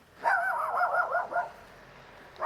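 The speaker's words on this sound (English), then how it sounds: "Those dogs came from nowhere." Dogs bark loudly and close by on a street outside a modern house in the Leederville area of Perth, a short burst of several overlapping barks lasting about a second, followed by quiet.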